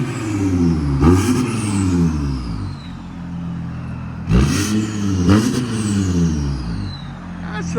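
A 2017 Audi A7 TDI turbo diesel fitted with down pipes and straight pipes revs up in a few sharp bursts, its loud exhaust rising and falling between steadier idle-like stretches, heard up close.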